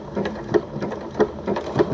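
A sewing machine running steadily while stitching zigzag appliqué, a close, loud mechanical whirr with a regular rhythmic pulse of needle strokes and no talking.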